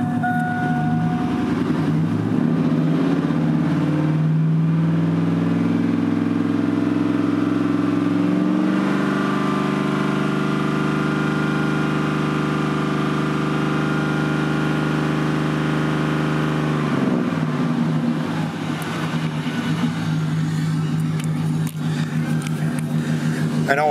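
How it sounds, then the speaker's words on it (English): A loud GMC Sierra pickup with a GM LQ4 V8 idles steadily with a deep rumble, shifting pitch partway through as it revs slightly, running continuously throughout. "This truck is kind of loud"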